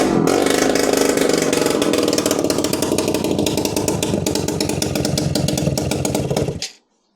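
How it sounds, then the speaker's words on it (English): A small two-stroke scooter engine runs loud and raspy at steady high revs, with a chattering tone from a leaking, blowing exhaust, then cuts off abruptly near the end. "That exhaust is blowing its tits off."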